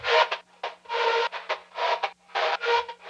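A gritty, heavily distorted synth sample loop in FL Studio pulses in repeating chopped bursts, loud and buzzy with short gaps between phrases.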